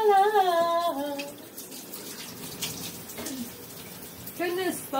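Shower water runs in a steady broad hiss throughout, while a person sings over it at the start and again near the end.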